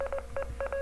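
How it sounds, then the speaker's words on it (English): Short Morse code beeps from a WAV audio file come in quick bursts of steady tones, grouped with brief gaps between them, clear and close with no voice. "Same Morse code again."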